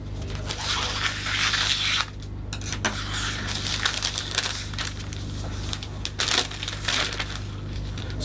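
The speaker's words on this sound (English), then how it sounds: "We're going to cut first of all just two squares of cellophane." Cellophane squares cut and handled for a floral design, with close crinkling and rustling, sharp snips and plastic crackle in bursts, steady and fairly loud, no talking.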